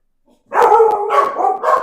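Dogs bark loudly and close by in a quick, continuous burst of overlapping barks that lasts over a second, with no voices.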